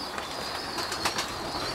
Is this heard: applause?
no